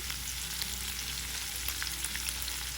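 Onions frying with curry leaves, green chilies and salt for a simple onion curry, giving a dense, continuous crackling sizzle with tiny pops over a low hum.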